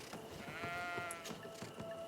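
Sheep bleating in the video game Greedfall, a single faint, wavering bleat over a steady background of ambient game noise and scattered clicks.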